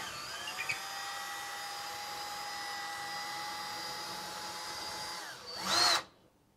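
A power drill runs continuously, boring upward through a ceiling during a home wifi access point install. The steady whine holds for about five seconds, then surges in a brief louder burst before cutting off.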